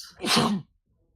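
A single short sneeze bursts out close by, breathy and sharp, then stops and leaves near silence.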